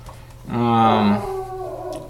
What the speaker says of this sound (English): My dog is going crazy today